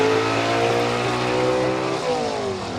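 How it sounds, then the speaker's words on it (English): A B Gas drag race car at Carolina Dragway in Aiken launches off the line, its engine a loud sustained roar with rising then shifting harmonic pitch, steady and close with no talk over it. "But listen to this car leave the line."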